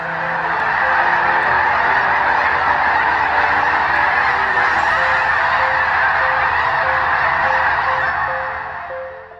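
Large flocks of ducks, geese and cranes gather in late fall and winter at Wheeler National Wildlife Refuge, filling the air with a dense, continuous chorus of loud honking and calling that holds steady throughout.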